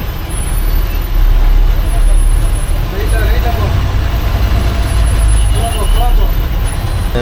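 Heavy road traffic heard from inside an SETC interstate bus, a loud continuous rumble of engines and tyres with hiss and passing vehicles throughout.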